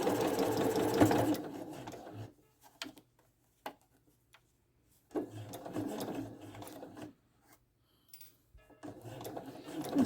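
A sewing machine stitches a gathered fabric seam in three separate bursts of rapid mechanical whirring, with quiet pauses and scattered clicks between runs.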